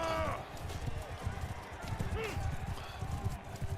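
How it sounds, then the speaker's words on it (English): Horses galloping across a Mount & Blade II: Bannerlord battlefield, a steady low drumming of many hooves with irregular thuds, heard under talk and scattered game noise throughout. "So that's a problem with so many horses running around."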